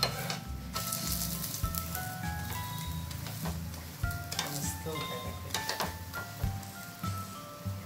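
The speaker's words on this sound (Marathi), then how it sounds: "छान खमंग असे भाजून घ्यायचे तूप घालून" Sabudana paratha roasting in ghee on a flat pan, a soft continuous sizzle with scattered clicks and taps of a spatula, steady and close.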